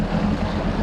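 Low exhaust rumble from a Yamaha personal watercraft fitted with a Worx Racing free flow exhaust, a short, steady, loud burble mixed with wind and water noise.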